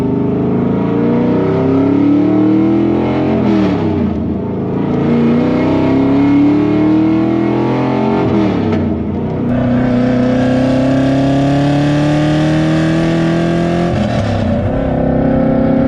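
An LS V8-swapped Nissan 350z with about 450 hp accelerates hard at full throttle. A loud, continuous engine roar climbs steadily through the revs, with several gear-shift breaks, and no talking.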